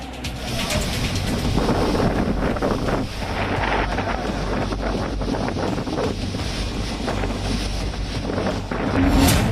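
Strong Cyclone Tauktae winds roar and buffet the microphone continuously in Gujarat, a dense, loud rushing that never lets up, with water churning beneath it.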